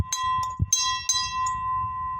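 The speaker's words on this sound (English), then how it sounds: "this right here is obviously the bell" A locomotive-style bell for a ride-on locomotive rings several times in quick, uneven strikes, each a bright metallic clang with a steady ringing tone sustained beneath, close and fairly loud with no talk.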